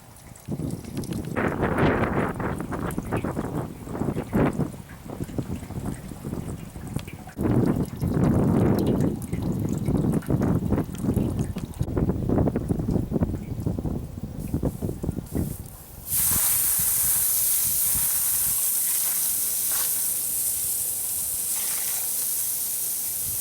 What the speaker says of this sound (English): We'll get the garden hose and we'll dilute this stuff that's dripping down the driveway.